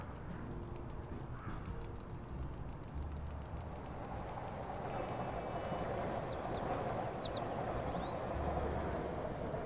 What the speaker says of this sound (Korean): 왜 뒤에서 새소리를 내고 그래.